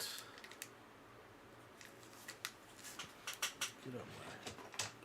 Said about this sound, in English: Get up my scissors here.